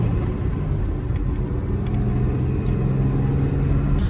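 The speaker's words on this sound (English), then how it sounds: "I'm driving right now. And I'm also driving a standard, so I have to shift the gears." Inside a moving car with a manual transmission, a steady low engine and road rumble drones continuously at close range, with no clear break for a gear change.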